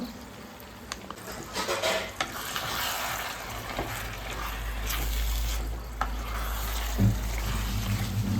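Water added to boiling curry in a pot gives a continuous bubbling and simmering hiss, with a few light stirring and utensil clinks and a low steady rumble, close by.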